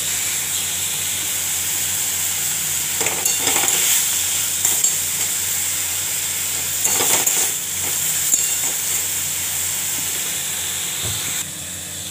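Eggplant and bethua greens frying in a pan, a steady close hiss and sizzle running throughout with occasional stirring bumps and scrapes, no talking.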